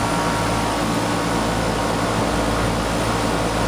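A newly installed Arcoaire 2-ton HVAC system runs with a steady, loud, unbroken mechanical hum and airy rush, close by, with no voices.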